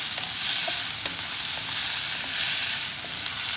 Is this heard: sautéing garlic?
yes